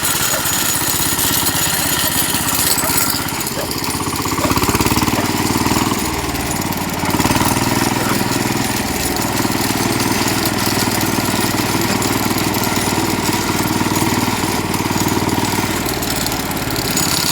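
The engine of a walk-behind tractor on tractor tires drones loud and close while driving off-road through deep snow, its pitch shifting slightly as the load changes.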